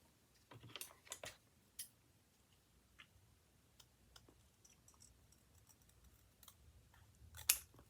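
Scissors cut paper in a quiet room, giving a few sharp close snips and crisp rustles early on, then sparse faint ticks and a louder snip near the end.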